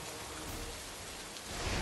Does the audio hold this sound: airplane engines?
no